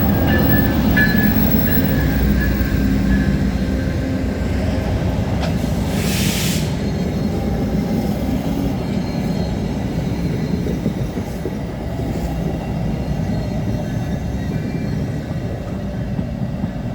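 CN U714 freight train hauled by NS and BNSF locomotives rolls past in a continuous heavy rumble with faint wheel clatter and a brief high squeal midway, steady and near, with no voices.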